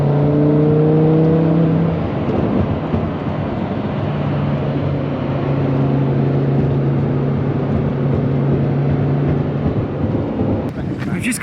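An orange Lamborghini Huracan Evo coupe driving off, heard as a loud engine drone that rises and then settles into a steady rumble with road noise, while a voice talks over it.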